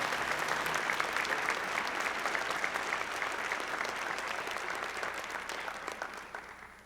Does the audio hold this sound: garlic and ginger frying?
no